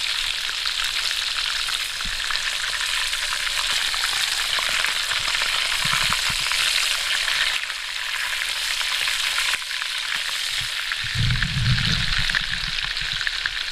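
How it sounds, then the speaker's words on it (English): Burgers fry in bacon grease in a pan, giving a steady, loud, dense sizzle that runs throughout with brief crackling bursts and no talking. "Look at that, it's frying in bacon grease."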